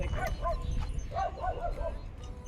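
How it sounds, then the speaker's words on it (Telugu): A dog near a house barks and yips at a passing ice cream cart vendor, several sharp, high barks in two quick clusters, moderately close over background noise. "ఐస్ క్రీమ్ బండి అతను వస్తే ఆ కుక్క, అక్కడ ఉండే కుక్క చూడండి వెళ్ళిపోయిందాక అరుస్తూనే ఉంది"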